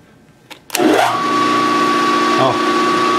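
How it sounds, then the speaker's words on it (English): Metal-cutting tool spinning up with a sharp whir and settling into a steady, loud machine drone while a chamfer is cut for a thread start on a crank carrier, with brief clicks at the start. "Put a little chamfer on there for a thread start."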